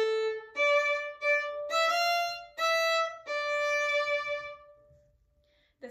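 A bowed string instrument plays the opening phrase of The Two Grenadiers with a clear melody of short detached notes in a dotted rhythm, close and solo, ending in near silence.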